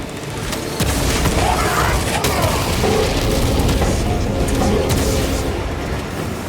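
Terminators open fire in Warhammer 40k Space Marine 2, a dense, continuous roar of heavy gunfire and booming impacts that stays loud and unbroken across the battle.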